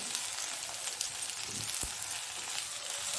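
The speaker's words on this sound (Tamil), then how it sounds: "பாருங்க, நல்லா வதங்கிடுது" Vegetables for brinjal kosthu sautéing in a pan, a soft, steady sizzle heard close but faint, with one brief knock of a utensil partway through.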